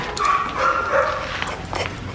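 A dog gives a few short barks and whimpering yips at moderate distance amid indoor background noise, with no clear talking.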